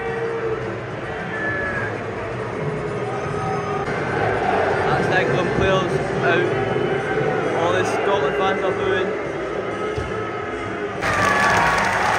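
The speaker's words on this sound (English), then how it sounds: "Scotland fans are booing" Scotland football fans in a stadium crowd let out a sustained, low, droning boo that swells across the stands, with a voice talking over the noise.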